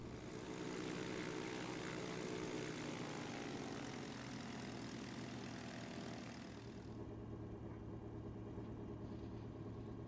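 A Jabiru J170 propeller aircraft's engine in the Prepar3D flight simulator, a loud steady drone that drops suddenly to a lower idle hum while the plane parks in front of a hangar.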